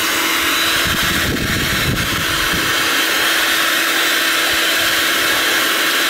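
A heat gun blows hot air onto the back of a circuit board to loosen its chips. It makes a loud, steady, close rushing whoosh with a faint drone underneath, and no one talks.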